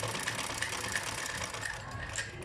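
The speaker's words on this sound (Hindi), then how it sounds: "और पैर पैर रख के आपने सिलाई लगा देनी है।" A foot-pedal sewing machine stitches a frock with a close, steady mechanical clatter, its needle ticking in an even, fast rhythm throughout.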